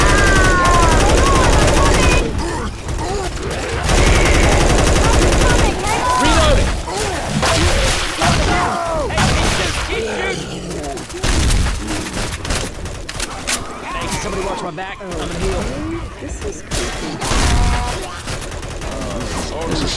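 Dense, loud automatic gunfire from several weapons in Left 4 Dead 2 as survivors shoot down a Hunter, bursts overlapping almost without pause, with shouting voices mixed in.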